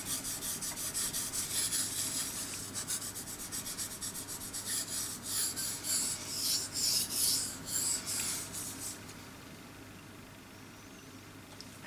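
A blade is sharpened on a Belgian blue coticule whetstone in steady rhythmic rasping strokes, close and fairly loud, fading to a faint hush near the end.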